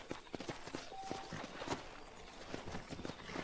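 Horse hooves clip-clop at a steady walking rhythm in the video game Red Dead Redemption, fairly quiet, with faint game ambience behind the evenly spaced hoof beats.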